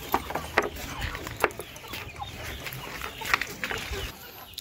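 Native chickens from a backyard farm, young offspring of breeder birds, give short, scattered clucks at close range over a low background.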